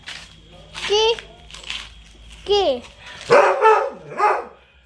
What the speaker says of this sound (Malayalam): ഈ പട്ടിക്ക് ബ്രീഡ് ജർമ്മൻ